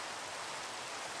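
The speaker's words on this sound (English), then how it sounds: "Oh good, it's raining." Steady rain in the Minecraft video game, a dense and even hiss that holds at a constant level throughout with no talking.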